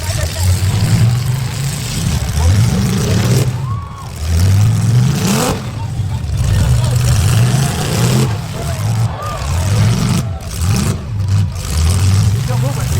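Battered demolition derby cars rev loudly and close by, engines surging and dropping in repeated rising and falling pulls as they keep moving through the arena.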